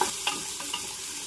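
Green chillies, ginger and garlic fry in a pan for a village-style country chicken gravy: a close, steady sizzle with quick scraping stirs, and no talking.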